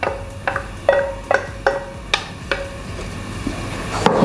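Chopped pineapple pieces drop into a cooking pan for pineapple jam, a series of about ten short clattering knocks and taps spaced irregularly, close and fairly loud with no talking.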